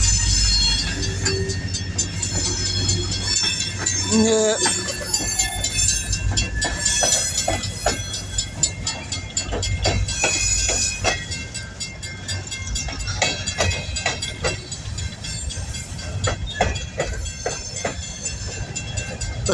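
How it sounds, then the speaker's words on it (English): A long coal train rolls past at Mount Hope, West Virginia, with steady rumbling, rhythmic clickety-clack of wheels and intermittent squeals, loud and continuous throughout; a voice speaks briefly. "Okay, that is a train I'm hearing."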